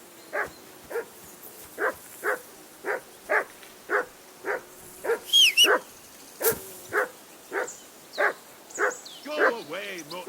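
A dog in Kingdom Come Deliverance 2 barks steadily, about fifteen evenly spaced woofs at moderate distance, with a voice speaking briefly partway through.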